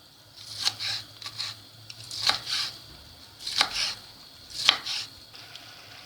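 A knife chops peppers on a board in short clustered bursts of crisp taps, four or five groups spaced a second or so apart, close and clear.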